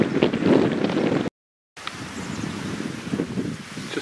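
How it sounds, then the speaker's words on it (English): Strong wind buffets the microphone in a steady, loud roar by a river, broken by a brief moment of silence before it resumes. "Pretty windy today."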